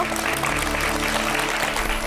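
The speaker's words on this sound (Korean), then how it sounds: "박수로 맞아주세요." A studio audience applauds to welcome a guest, the head of a creativity education and consulting firm, onto a lecture program. The clapping is steady, dense and continuous throughout.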